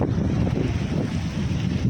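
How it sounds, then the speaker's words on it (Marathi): Wind roars across the microphone over the low rush of sea waves on the Konkan shore, steady and loud throughout. "मजबूत लाटा येतात."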